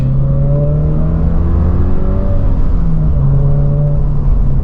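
A Subaru BRZ with its stock intake reinstalled, engine droning steadily up and down in revs, loud and close, with a continuous tonal hum and no talking.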